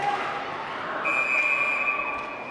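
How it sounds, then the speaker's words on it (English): A referee's whistle sounds at a boys varsity ice hockey game between the Nantucket Whalers and SJPII Lions, a short high tone followed by a longer sustained blast over steady arena crowd noise. "the whistles have come a little earlier and often now"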